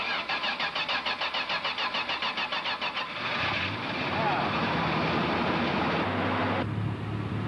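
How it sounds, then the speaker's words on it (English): A vintage Mopar car engine with a carburetor, started after sitting a few days, cranks in a rapid rhythmic churn for about three seconds, then catches and roars steadily at close range before settling to a lower idle. "we had some technical difficulties with the noise of the engine overwhelming me"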